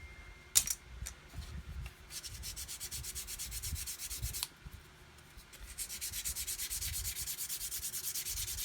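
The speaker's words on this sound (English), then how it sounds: "You just keep sanding, thinning it out" Steady rhythmic rasping of sandpaper rubbed back and forth on a small hard plastic part of a 1/72 scale Airfix Vulcan model kit, close by, in two long bursts with a short pause between.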